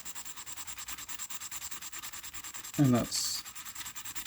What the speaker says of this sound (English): this is just a bit of 1500 wet and dry sandpaper